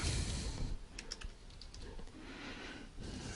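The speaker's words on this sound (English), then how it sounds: "Let's type Pope and resignation" Soft, rapid tapping on a computer keyboard while search terms are typed, a quick cluster of light clicks over a faint background hiss, no voices.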